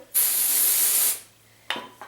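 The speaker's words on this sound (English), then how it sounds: "So first I'm spraying a little bit of the dry shampoo." Dry shampoo sprays onto hair in one loud, close hiss lasting about a second, followed by a couple of short, sharp clicks or taps.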